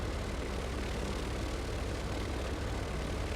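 A Cirrus SR20 idles in X-Plane 11, its engine a steady, dense broadband drone with a low rumble, unchanging throughout and with nothing else over it.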